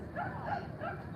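A puppy in a Los Angeles park gives three short, repeated yelping barks with whimpery edges, fairly close and steady over a low background rumble.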